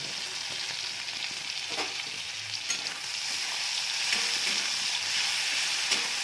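Prawns frying in a pan with oil, a steady close sizzle that runs throughout with faint stirring clicks and no talking.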